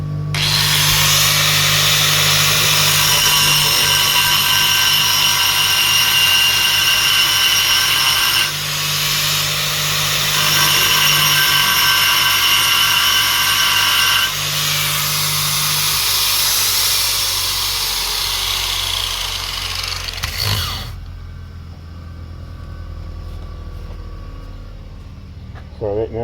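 A power tool grinds loudly and steadily to clean up a weld, with one brief dip before it winds down and stops, leaving quieter room sound at the end.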